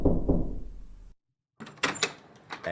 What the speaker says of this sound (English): That sound effect for knocking the door was a little too good.